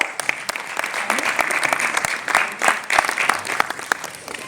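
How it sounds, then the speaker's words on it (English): Audience applause at an awards celebration as a guest is called onto the stage, a steady burst of clapping from a crowd in a hall, fairly close and continuous throughout with sharp individual claps standing out. "Can we have a huge round of applause for her?"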